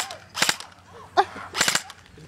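Airsoft gun firing during an outdoor airsoft game, a few sharp cracking shots in two short bursts, close and fairly loud, with brief voices in between.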